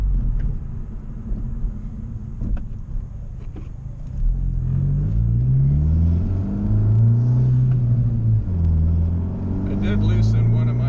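A 2019 Honda Civic Si on Tein Flex Z coilovers driving on smooth road, a steady low engine rumble and road noise that rises and falls with gear changes, with someone talking over it.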